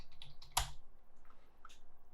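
Quick, light keystrokes on a computer keyboard: a short flurry of soft taps with one sharper click, fairly close and quiet.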